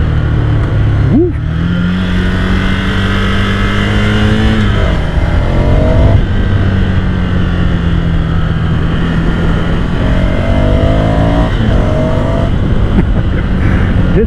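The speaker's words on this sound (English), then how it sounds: "This nice brawl of the V-twin." A Ducati V-twin motorcycle engine revs repeatedly, a deep rumbling burble climbing and settling in pitch, loud and close throughout.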